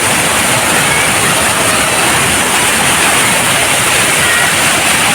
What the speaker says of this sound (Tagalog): Naagos ang tubig.